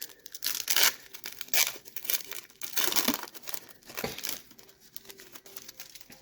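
A 1990 Score hockey card pack wrapper is torn open up close, giving bursts of crisp plastic crinkling and tearing that come in several separate pulls with short pauses between them.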